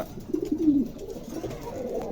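A pair of magpie pouter pigeons in a pigeon market, giving soft low rolling coos close by, a couple of gentle throaty calls over quiet background hum.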